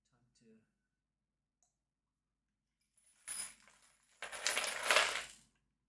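Screws for a flat-pack chair are tipped out and rattle onto a surface, producing a short metallic clinking burst and then a longer, louder tumble of small parts close by, after a faint early murmur.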